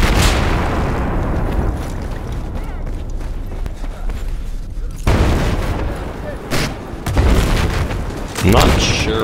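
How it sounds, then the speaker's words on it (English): Explosions and heavy gunfire in the video game Battlefield 4, a dense, loud barrage of booms and blasts with several sharp impacts throughout. "The bomb is dropped."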